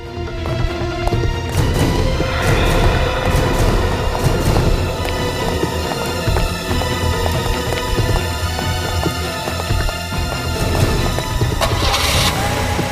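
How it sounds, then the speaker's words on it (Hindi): Two cars in a Hindi CID crime drama start up and drive off, a loud, continuous roar of engines and road noise filling the whole stretch without a break. "सीआईडी वाले 2 गाड़ी में निकले हैं"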